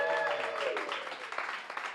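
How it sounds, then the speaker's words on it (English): A live studio audience at a talent show final claps briefly, a short burst of applause with a voice audible over it at the start. "Give yourselves a round of applause."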